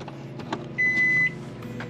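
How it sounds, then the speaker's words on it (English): A microwave oven running off an inverter kicks on with a steady half-second tone over a low electrical hum, close and fairly loud, with faint clicks around it. "we just heard the microwave kick on"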